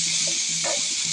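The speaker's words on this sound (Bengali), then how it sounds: "পেঁয়াজগুলো সুন্দর করে নাড়াচাড়া করে ভেজে দিচ্ছে।" Onions stirred and frying in a pan for a hilsa fish roe dish, a steady close sizzle with a brief louder crackle of stirring midway, no talk.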